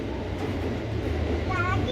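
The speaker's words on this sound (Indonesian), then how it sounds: "Kereta Thomas udah jalan." A Thomas-themed train pulling away from a station platform, a steady low rumble of rolling wagons close by, continuous throughout with faint background voices.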